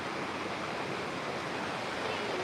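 A river swollen after several days of rain rushes past in a steady, even roar of flowing water, with no breaks or other sounds.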